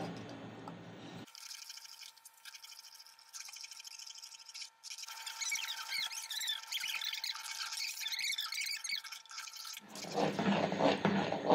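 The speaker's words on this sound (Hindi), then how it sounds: "जब लगे कि कड़ी बहुत गाढ़ी होने लगी है तो पानी डाल देंगे थोड़ा" Water poured into thickening kadhi in a home kitchen: a steady trickling and splashing of liquid that runs for several seconds, then a louder bubbling stir at the end, with no voices.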